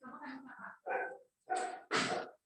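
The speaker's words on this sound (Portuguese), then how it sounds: "Gente, põe os cachorros lá na casinha delas" Dogs bark in four short, separate bursts, fairly faint and set back from the listener, with brief pauses between them.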